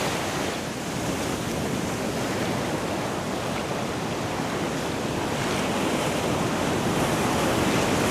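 Ocean surf washes steadily into a small rocky beach alcove in San Diego, a continuous broadband roar of breaking waves with some wind buffeting the microphone and no voices.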